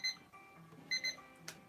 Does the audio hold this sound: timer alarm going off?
yes